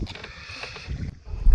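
A wooden country boat paddled by hand on a journey to a tribal settlement near Thiruvananthapuram, giving soft low water swishes and faint knocks close by, with wind noise over the microphone and no talk.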